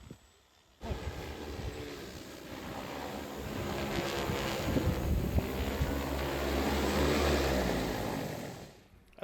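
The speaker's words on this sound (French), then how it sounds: "Démonstration de pulvérisation sur un champ de luzerne" A steady whirring drone with rotor hum flies for several seconds, mixed with wind noise, rising slightly then fading at the end; a T10 agricultural spraying drone over an alfalfa field in Ancelle.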